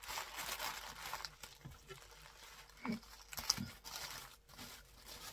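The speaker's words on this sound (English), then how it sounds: "Sorry about the rustling." Soft crinkling and rustling of paper packaging, steady and fairly faint, with a few sharper crackles as it is handled nearby.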